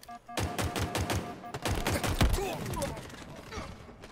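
Rapid pistol shots ring out in Halo Infinite, a quick burst of evenly spaced cracks, a short pause, then another rapid string of shots, with game sounds mixed in.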